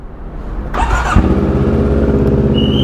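A motorcycle engine starts up close with a sharp burst, then settles into a loud, throbbing idle.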